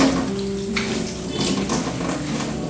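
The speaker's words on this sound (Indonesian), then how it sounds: "Selanjutnya kita bilas ke air mengalir." Hands being rinsed under running tap water, a steady, close hiss of flowing water with light splashing that continues unbroken throughout.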